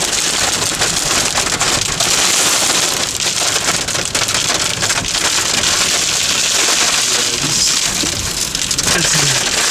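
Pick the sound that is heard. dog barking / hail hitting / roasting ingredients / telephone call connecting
hail hitting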